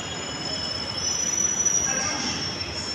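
A Delhi metro train runs, with a loud steady rumble and a high, thin wheel squeal riding on top. The noise swells a little midway and stays close and continuous.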